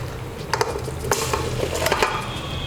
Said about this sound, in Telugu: వేసుకొని ఈ చికెన్ని కూడా దీంతో పాటు వేగనిద్దాం